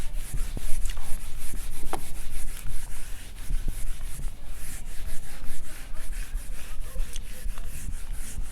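Writing being rubbed off a classroom board during a maths lecture, a continuous rough scrubbing with quick back-and-forth strokes, close and fairly loud, with no talking.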